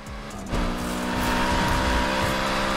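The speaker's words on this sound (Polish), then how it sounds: "Szybka jest ta BMW." A fast BMW in a racing video game accelerates hard, its engine note rising in a steady whine after a sharp onset, with a brief tire squeal and the engine tone climbing through the gears.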